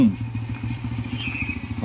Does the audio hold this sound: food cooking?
no